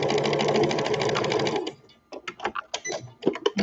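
A sewing machine runs steadily, then back stitches through fabric in short stop-start bursts. It is loud and close, with no talk over it.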